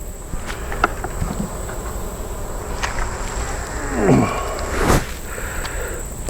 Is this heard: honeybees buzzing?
yes